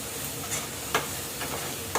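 Fish pieces coated with salt and turmeric fry in hot oil, giving a steady, close sizzle with a few soft stirring clicks and scrapes throughout.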